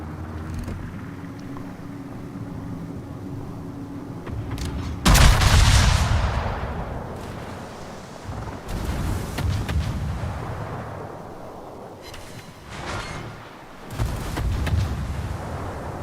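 Heavy naval guns boom in the World of Warships game: several loud blasts with long rumbling decays, spaced a few seconds apart over a low engine and water background.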